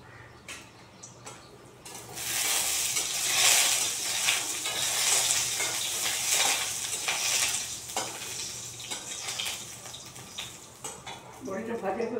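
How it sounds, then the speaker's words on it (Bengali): Bori lentil dumplings sizzle in hot oil for a bottle gourd dish, a steady close hiss and crackle with occasional stirring scrapes and clicks. "বড়িটা ভাজা হয়ে গেছে"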